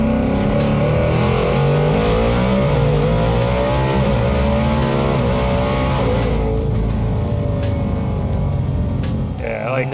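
A 2000HP Coyote-engined Mustang revving high on the street, a loud continuous wailing engine note climbing and holding near redline, heard close from inside the car with some talk underneath.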